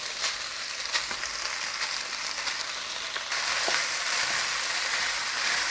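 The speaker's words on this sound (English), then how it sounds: "Now the peppers and onions will cook down, starting to deglaze at bottom." Peppers and onions hiss and crackle in a wok with browned pork pieces for a stir fry, a continuous close sizzle that grows louder partway through, with no voices.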